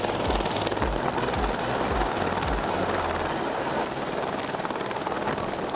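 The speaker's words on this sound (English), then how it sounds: "the pilot took the helicopter to a nearby pool and filled their bucket up" A firefighting helicopter with a water bucket roars close by, its rotor thumping in a steady rapid beat under a loud, continuous engine wash.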